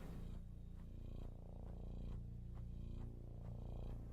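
A cat purrs close to the microphone in a soft, rhythmic rumble, its pulses rising and falling with each breath, quiet and low with no voices.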